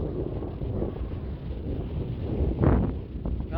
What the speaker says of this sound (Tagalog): Ang lamig ng ano, simoy ng hangin dito sa tuktok